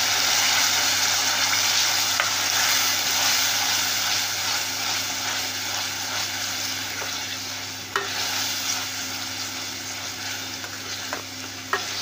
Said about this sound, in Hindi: हमने टमाटर कद्दूकस करके रखे हैं वो ऑयल में डाल देंगे। मसाले को अच्छे से भुनने देंगे।